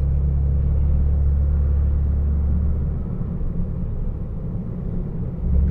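A Saab 9-5 Turbo4 drives through Trollhättan, its steady low engine and road rumble heard from inside the cabin, even and unbroken throughout, with no talking.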